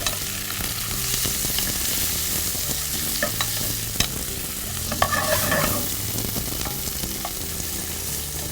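Onions, garlic and dried figs cook together in a pan, giving a steady soft sizzle with occasional scrapes and clinks of a utensil stirring, close and continuous with no voices.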